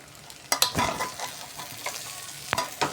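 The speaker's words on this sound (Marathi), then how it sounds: "तूप आता छान मिक्स करून घेतलेलं आहे मी" Ghee being stirred through masale bhat, a spiced rice dish, in a pan: a few soft scraping strokes and clicks of the spoon against the vessel, faint and close, with no talking.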